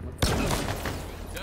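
Cindershot fire in Halo Infinite: a sharp burst lands at the start, then a dense crackling, fizzing tail carries on with a few smaller pops. Excited voices talk over the noise.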